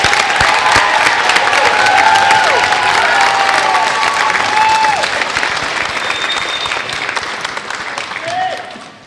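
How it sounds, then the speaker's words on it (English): Sustained applause from a large audience at a school spring choir concert, dense steady clapping with a few cheers and whistles, fading out toward the end. "Let's give them a big round of applause"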